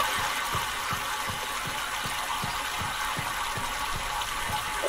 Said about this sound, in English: Oh, you can actually hear a pump.